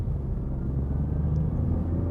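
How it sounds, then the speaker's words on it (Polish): A Ford Puma with a three-cylinder engine accelerates, its low engine rumble droning steadily from inside the cabin for a couple of seconds, with no talking. "Jak ten samochód się przyjemnie zbiera"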